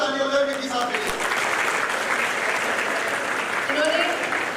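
Audience applause at a yoga session, a continuous wash of many hands clapping, loud and steady, with a voice speaking over it at the start and again near the end.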